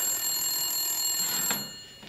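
Telephone ringing in a Hindi comedy skit scene, a steady bright electronic ring sounding continuously and fairly loud with no talk, then fading out near the end.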